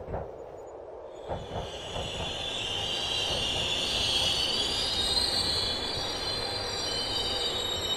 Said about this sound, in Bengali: ট্রেন আটপুর এসে দাঁড়ালো,